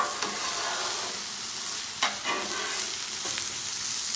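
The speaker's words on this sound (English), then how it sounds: "let's go ahead and heat up these vegetables" Bag of frozen vegetables cooking in a hot pan for Thai chicken noodles, giving a steady broadband sizzle with a few sharp scraping stirs and clinks near the middle, close and fairly loud, no talking.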